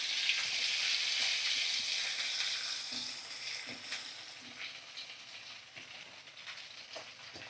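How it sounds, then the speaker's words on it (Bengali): Chopped onions frying in oil with whole spices such as cardamom, producing a bright sizzle that starts strong and fades gradually, with occasional soft stirring taps. "আর দেখো কুচানো পেঁয়াজ আমি এবার দিয়ে দেবো।"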